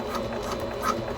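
A sewing machine stitches back and forth across a fabric panel of a small crossbody bag, a steady close mechanical chatter of needle strokes lasting just over a second.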